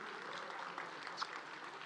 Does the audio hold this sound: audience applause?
yes